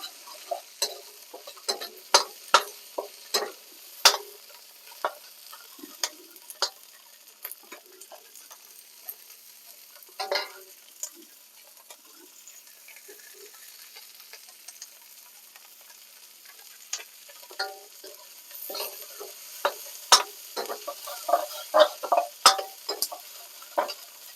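Vegetables and onions stir-frying in a pan, heard as faint, crackling pops and sharp clicks of a spatula, scattered and fairly quiet throughout.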